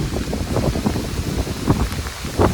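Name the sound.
heavy rain outdoors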